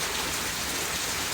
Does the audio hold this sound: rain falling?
yes